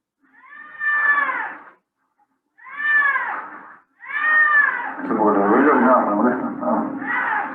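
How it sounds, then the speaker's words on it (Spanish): A recorded cat meows in three plaintive, drawn-out cries, loud and close, played during a lecture on feline pain; the last cry runs into a longer wailing caterwaul under a low voice. "¿Se escucha como llora el gato?"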